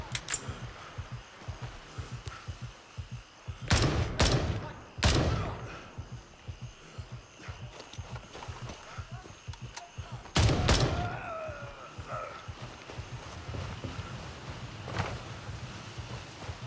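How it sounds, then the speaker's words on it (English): Sharp gunshots in the shooter game Gray Zone Warfare, a few loud isolated blasts with one close pair and another burst later, over low rumbling ambience. "This guy's inside shooting me, trying to shoot me."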